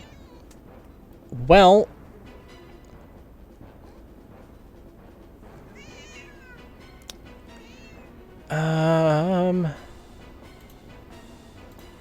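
A cat meows twice in the Path of Radiance video game, first as a short wavering call and then as a longer, louder one several seconds later, with a brief spoken word before them over a quiet background.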